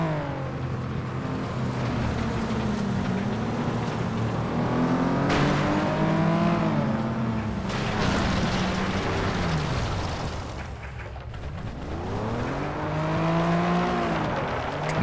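A race car engine in the video game FlatOut drones loudly and steadily after a crash, with repeated rising and falling revs and a brief dip before climbing again, with no talk.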